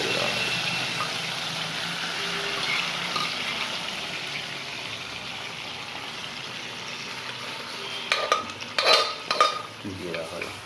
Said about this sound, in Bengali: তেলের মধ্যে ফোড়ন দেওয়া তেলের মধ্যে টমেটোগুলো দিয়ে দেওয়া হবে